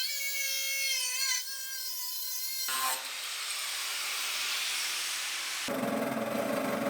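Power cutting through the steel frame rail ears on a 1965 Mustang body, a loud whining tool tone that shifts into a harsh, broadband grinding roar, then a change in pitch near the end; no talking.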